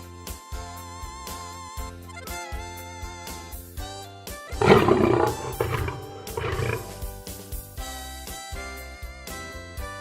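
A lion lets out a deep, rough roar that swells midway and trails off over a few seconds, heard above ongoing background music.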